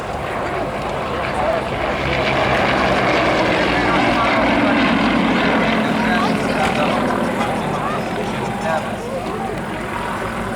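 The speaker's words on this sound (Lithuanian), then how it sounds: "Jam iš dešinės su lėktuvu skrenda Robertas Noreika." A propeller aircraft drones loudly and steadily overhead at a Lithuanian air show, its engine holding a constant roar throughout, with faint voices underneath.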